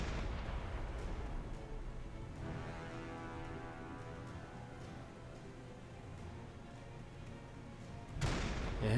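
In Silent Hunter 5, a low, rumbling naval gunfire boom fills the scene, a long, dull, steady roar that swells again sharply near the end.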